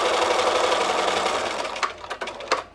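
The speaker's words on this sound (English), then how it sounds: "So I'm just going to sew along all 8 rows" A sewing machine stitches rows for smocking, running as a fast steady whir that slows near the end into a few separate clunking stitches.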